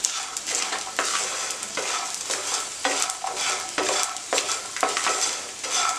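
Ingredients for rice bran laddu frying in a pan: a loud, continuous sizzle with repeated scraping stirs every second or so, close up, with no voices.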